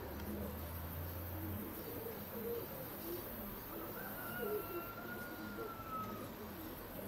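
Pigeons cooing close by in Veria, low soft coos repeating over a steady outdoor hum, with a brief whistling tone and a person talking quietly underneath.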